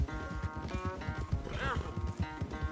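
Horse galloping in a race in Red Dead Redemption 2, rapid rhythmic hoofbeats close up with a brief whinny midway, under a bit of speech.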